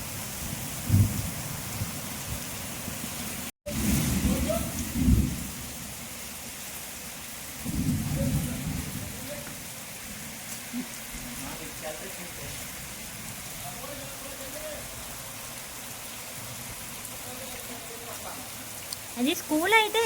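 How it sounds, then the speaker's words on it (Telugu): Heavy rain pours steadily during a road trip, a dense, continuous hiss that lasts throughout, with occasional low rumbling swells and faint voices in the background. "బాగానే పడుతుంది వర్షం, బాగా గట్టిగానే పడుతుంది కూడా."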